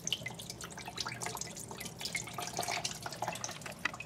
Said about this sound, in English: when you pull the drain plug, coolant's gonna come out all over the place.